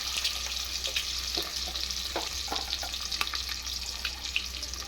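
Peeled boiled eggs fry in hot oil with chili powder for an egg biryani, giving a steady close sizzle with scattered crackles and pops and faint utensil stirring, no voices.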